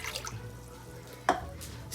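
Water trickles and splashes into a slow cooker while a crockpot meal is being made. Faint dripping sounds give way to one brief, sharper splash partway through, with no talking.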